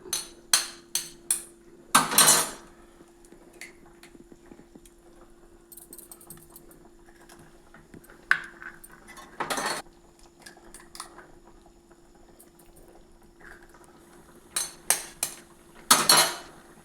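Eggs cracked against a vessel and dropped into a simmering eggplant curry, heard as several sharp taps and clinks spaced through the clip, with brief louder rattles near the start, middle and end over a faint background hum.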